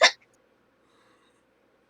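A single sharp hiccup voiced by a person imitating a character's hiccup, loud and close, followed by near silence with only a faint murmur.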